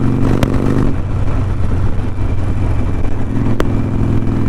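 A motorcycle fitted with aftermarket exhaust pipes rumbles loudly and steadily while riding, a close, continuous engine drone with wind noise and slight rises in pitch.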